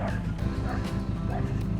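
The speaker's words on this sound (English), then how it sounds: "Big vicious guard dog there." A Jack Russell terrier guard dog barks a few times out in rural outback Australia, the yaps loud and fairly close over a steady engine-like rumble, with brief whimpering yips between them.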